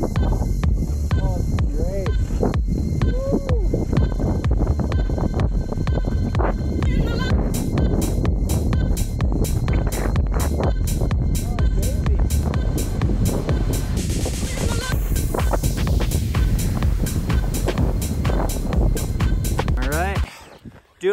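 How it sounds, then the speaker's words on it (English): Strong wind gusts across a mountain-top divide near a closed ski resort, roaring and buffeting the microphone loudly and continuously, with heavy rumbling bursts. "Tough wind off the divide on the top."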